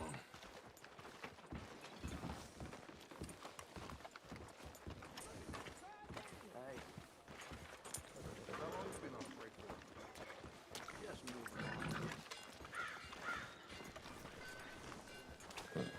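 Horse hooves clip-clop in a steady rhythm in the video game Red Dead Redemption 2, beneath ongoing conversation, with voices talking over the plodding footsteps throughout.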